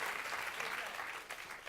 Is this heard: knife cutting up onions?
no